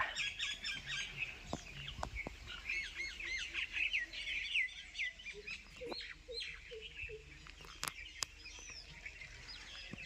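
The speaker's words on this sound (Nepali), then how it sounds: "चरा कराउँदैछन्" Many birds chirp and call continuously over village maize and rice fields, high and busy, with some duck-like quacks and sharp clicks mixed in, at moderate distance.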